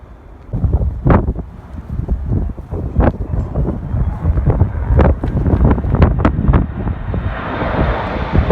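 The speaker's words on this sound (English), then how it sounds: "The winds are so strong today." Strong gusts buffet the microphone on a very windy day at an airport, loud irregular low rumbling blasts that rise and fall repeatedly with no voices.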